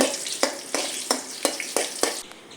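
Curry leaves fry in hot oil over a low flame, with a bright steady sizzle broken by regular sharp clicks, about one every third of a second, before the sound cuts off near the end.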